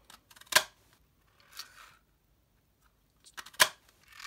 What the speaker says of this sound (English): So I'm using the sprig punch, and so I'm just going to cut out